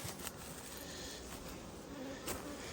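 Steady insect buzzing fills the scene, a dense continuous drone of many bees close by, with no voices.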